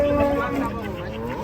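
A yellowish horned cow gives a single loud, drawn-out moo up close, its tone bending as the call trails off.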